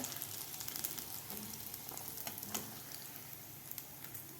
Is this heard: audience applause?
no